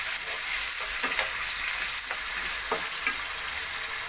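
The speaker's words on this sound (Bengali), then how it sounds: "একটু নাড়াচাড়া করছি।" Pieces of chicken are stirred in a hot pan, producing a continuous close sizzle with a few soft, scattered scrapes of the spatula.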